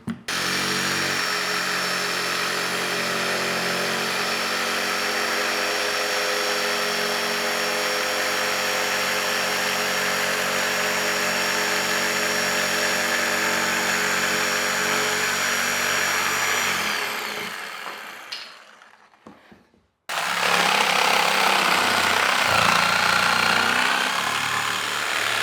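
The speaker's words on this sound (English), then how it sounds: "I'm going to take one of the brand new blades that came with this jigsaw and put it in this great DeWalt jigsaw" A DeWalt jigsaw fitted with a brand-new blade cuts steadily with a loud, sustained buzzing motor and rapid chattering blade for about seventeen seconds, winds down into brief silence, then starts up again.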